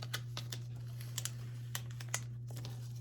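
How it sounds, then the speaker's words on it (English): Heat transfer vinyl is peeled at an angle from its backing, giving sparse, crisp crackling snaps and crinkles over a steady low hum, fairly close and quiet. "I like to peel at an angle and never straight up and down."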